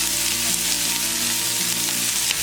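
Mustard seeds and curry leaves crackle and sizzle loudly in hot oil for a fish fry, a dense, continuous frying hiss heard up close.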